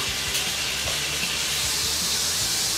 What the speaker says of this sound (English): these things are sizzling by themselves